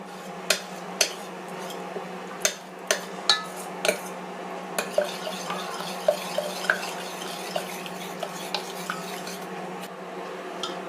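Hot cooked drumstick leaves and gravy ingredients for muringai keerai kuzhambu are mashed in a metal pot, sharp clinks and knocks repeating roughly every half second over a steady low background hum, with no voices.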